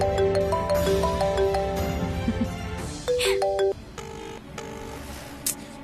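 A mobile phone ringtone plays a repeating electronic melody of bright tones, loud and close, continuing for several seconds against a low background hum in a Tamil TV serial scene.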